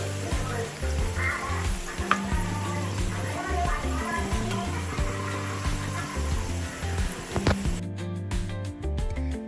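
Homemade potato chips deep-frying in hot oil, a dense continuous bubbling sizzle close by with scattered pops and a few sharp clicks, while a person's voice is heard over it.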